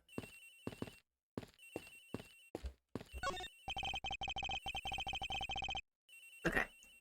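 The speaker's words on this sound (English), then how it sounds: "Sounds like the phone is up in the flight attendant's room" A telephone in the Ace Attorney Investigations video game rings in bursts of electronic trills, at first choppy and broken up, then as one sustained ring. A final short jingle follows the ring.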